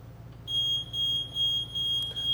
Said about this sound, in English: Now you can hear that audible beep.